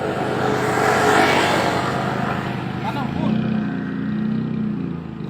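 A car with a loud aftermarket brong exhaust revs at night during a police exhaust raid in Tamalate, Makassar, a rough, steady engine roar that rises and falls under continuous talk.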